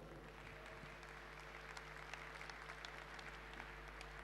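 Steady applause from an audience welcoming a local mayor at a public award event, a dense continuous patter of clapping that holds at an even level throughout.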